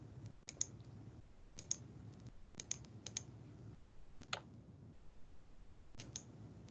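A computer mouse clicks repeatedly in irregular bursts, sharp close taps scattered over a quiet room with no talking.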